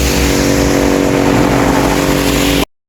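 Roadside traffic roars loud and close, a dense wash of passing cars and a motorcycle engine beside a garden. The sound cuts off abruptly before the end.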